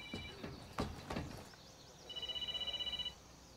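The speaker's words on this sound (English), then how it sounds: "Sorry about that, phone ring." A telephone rings once as a single warbling electronic burst that follows a few dull knocks in a quiet room.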